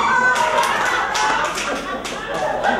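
Comedy club crowd at a late show during a 2008 Cleveland comedy festival, cheering and clapping in a dense, steady roar of applause with scattered whoops and voices, loud and sustained throughout.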